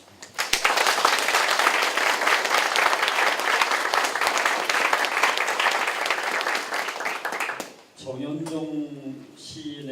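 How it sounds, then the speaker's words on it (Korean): Audience applause at a church leaders' retreat gathering, loud sustained clapping for about seven seconds that dies away, followed by someone speaking. "그분들을 위해서 특별히 더 박수 한번 쳐주십니다."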